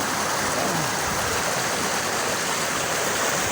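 Water flows at Wawa Dam in Rodriguez, Rizal, a steady, even rush of stream water over rocks at a bathing spot, loud and continuous with no breaks.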